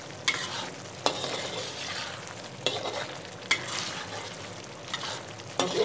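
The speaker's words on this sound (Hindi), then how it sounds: "अदरक और 2 मिर्चें, और इनको कर लेते हैं जी उल्ट पुल्ट थोड़ा सा, मतलब कि फ्राई इसको जो हमने डाला अदरक" Ginger and green chilies stir-fry in hot oil with a steady crackling sizzle, broken by repeated sharp scrapes of a spoon turning them in the pan at close range.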